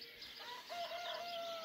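Birds call at dawn on Graciosa island in the Azores, a faint rooster-like crow with a rising, drawn-out note and scattered chirps over quiet, distant morning air.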